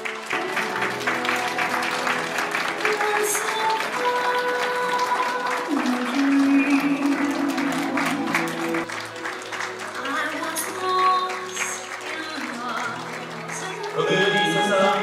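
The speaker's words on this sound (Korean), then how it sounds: "큰 박수 부탁드립니다" Wedding guests applaud the bride's entrance with sustained, dense clapping across the hall, mixed with background music and some talking.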